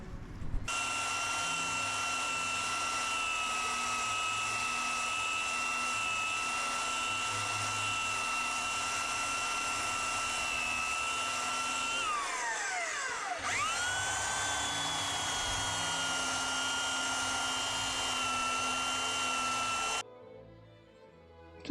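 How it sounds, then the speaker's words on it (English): A belt sander grinds material off wooden brackets for a backyard grill pavilion, a loud steady whine that holds for about twenty seconds, dips and swoops in pitch as the load shifts midway, then cuts off near the end. "So Dad's getting the belt sander."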